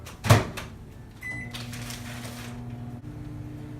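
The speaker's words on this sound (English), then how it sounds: "This microwave has a popcorn button, a potato button, a pizza button." A microwave oven melting a stick of margarine in a home kitchen, with a sharp clunk of the door closing, a brief beep, then a steady low hum running alone.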